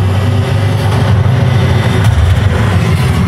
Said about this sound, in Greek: Γκαζώνει το αυτοκίνητο και νιώθεις ότι τρέμει όλη η θέση